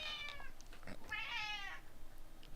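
A cat, a male kept indoors, gives two faint, drawn-out meows about a second apart against low room noise, with no speech.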